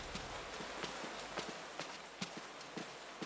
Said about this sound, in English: Yeah, it's footstep trail.